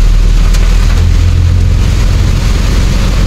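Heavy typhoon rain pours down in a constant dense roar, blended with a low engine rumble close by, with no voices.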